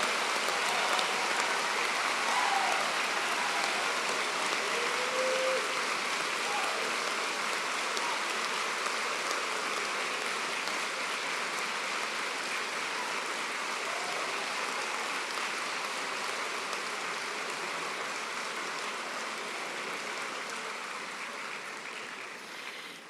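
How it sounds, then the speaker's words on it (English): Sustained applause from a large audience at a university graduation ceremony for new Bachelor of Education graduates, a dense steady roar of clapping that holds for over twenty seconds and slowly tapers at the end. "Can we have a big round of applause for our new Bachelor of Education graduates today?"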